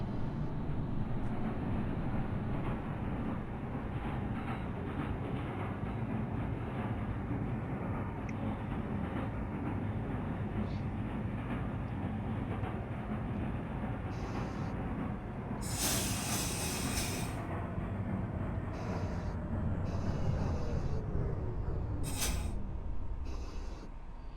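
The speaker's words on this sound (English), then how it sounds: "This is a Manhattan-bound Z local train." NYCT R-28 Redbird Z local subway train running in the OpenBVE simulator, a continuous loud rumble and rail hiss with rhythmic clicks late on and a falling motor whine near the end.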